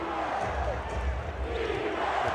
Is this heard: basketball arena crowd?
yes